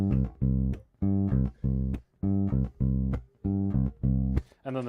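Squier Jaguar bass played through its P pickup: a steady, rhythmic series of short, punchy low notes with brief gaps between them, clear and up close.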